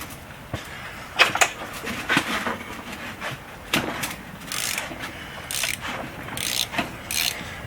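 Close ratcheting clicks and metallic scraping as a wrench works loose a heated water nipple plug on a Mopar engine, in a series of irregular short bursts.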